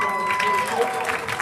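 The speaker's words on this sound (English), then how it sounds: "please give another big round of applause for" An audience claps in a dense, steady patter at a school winter sports ceremony, while a voice speaks over the applause.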